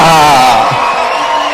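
A crowd loudly cheering and whooping for President John Dramani Mahama at the launch of a free tertiary education policy for persons with disabilities, with raised voices ringing out close, then easing slightly.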